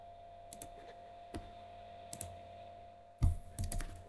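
Light, irregular keystrokes on a computer keyboard, a few scattered taps followed by a quicker cluster of clicks, close and quiet against a faint steady hum.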